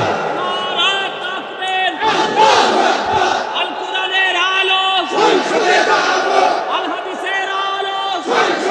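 A large crowd at an outdoor Islamic sermon gathering in Nilphamari shouts a loud, unified response to a takbir call, the chant rising and falling in several surging waves.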